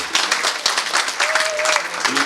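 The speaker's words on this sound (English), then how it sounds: "Round of applause for Enoch." A community baseball awards gathering gives a round of applause for a young player, dense, close clapping that runs steadily throughout, with a brief voice rising over it.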